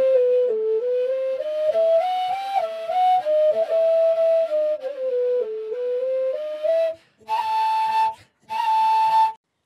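A caval, a wooden end-blown folk flute, plays the first half of the Hora Balako B part at a slow pace. A breathy legato melody flows alone for about seven seconds, then two separate held notes follow with short pauses between them.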